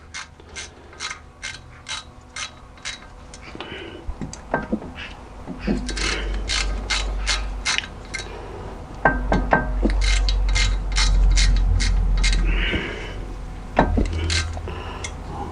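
Ratchet tightening a sensor on a Seat Ibiza 1.6 gearbox, with steady rapid pawl clicks up close, fairly loud, running in bursts alongside some clunks and handling noise.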